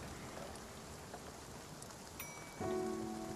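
Steady rain falls in the video game Spiritfarer, a soft even patter over the whole stretch, joined near the end by brighter tonal game sounds; no one speaks.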